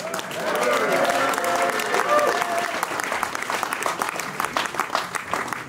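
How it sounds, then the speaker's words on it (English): Concert audience applauding the opening band at a show at the Bibelot in Dordrecht, Netherlands; dense, sustained clapping from a full crowd with cheers and voices mixed in, steady then slowly thinning. "give them a round of applause."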